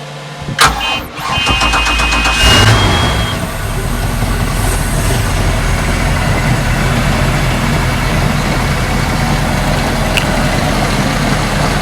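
A Mercruiser MPI boat engine with a newly replaced exhaust and risers cranks briefly and catches, then settles into a steady, loud, close idle rumble with an air blower running.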